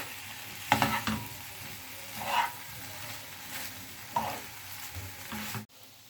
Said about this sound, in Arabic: نقلبهم مع بعض لمده 5 دقايق كده